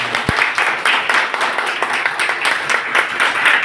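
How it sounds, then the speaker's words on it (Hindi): Continuous crowd applause at a business training event, dense and steady clapping filling the room for several seconds. "तो एक बार उनके लिए ताली।"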